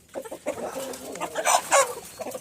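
Colombian Brahma chickens cluck on a farm in a short run of close, bright calls, with the loudest bursts near the end.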